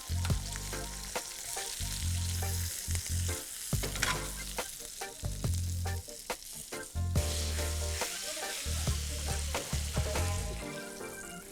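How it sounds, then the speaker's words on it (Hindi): Tomatoes char in a hot pan, giving off a loud, continuous sizzle and crackle with repeated stirring and scraping sounds, close by, and no talking. "टमाटर को देना है जलने।"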